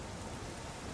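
Steady, dense rain hisses continuously in the video game Nioh, a close wash of falling water with no voices over it.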